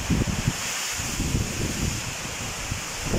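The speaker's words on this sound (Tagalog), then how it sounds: "Kung gaano kalakas ang hangin, naririnig mo." Strong typhoon wind under storm signal number 3 in Nueva Ecija, Philippines, roars and buffets steadily, with rustling gusts and broadband noise pressing close, no voices heard.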